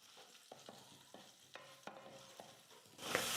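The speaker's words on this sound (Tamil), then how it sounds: "நெய்யில் நல்லா வறுப்பட்டு கொஞ்சம் லைட்டாக கலர் மாறி வர வரைக்கும் வறுத்துக்கலாம்." Coconut pieces frying in ghee, a soft crackling sizzle with a few light scraping stirs of a spatula in the pan, ending in a louder rush of noise.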